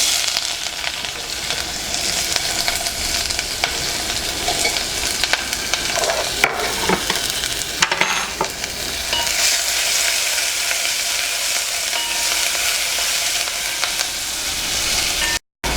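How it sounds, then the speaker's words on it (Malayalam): Chopped ginger, garlic, green chilli and onion fry in hot oil, a loud, dense, continuous sizzle up close with a couple of brief stirring knocks midway and no talk. "ഇനി ഇതിലേക്ക് ഇഞ്ചി വെളുത്തുള്ളി പച്ചമുളക് സവോള ഇത് കട്ട് ചെയ്തിട്ട് ചേർക്കണേ"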